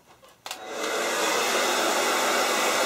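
A hair dryer clicks on and settles into a steady, loud, close blowing roar while short hair is blow-dried, with no talking.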